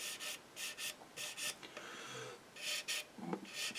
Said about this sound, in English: it's just sanding it back until it's all flush and smooth and nice.